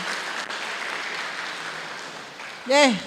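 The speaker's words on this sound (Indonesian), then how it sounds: "tepuk tangan berkali-kali untuk Bapak Ibu" Workshop participants clap together in an indoor session, a steady patter of hands lasting a few seconds before a voice briefly rises at the end.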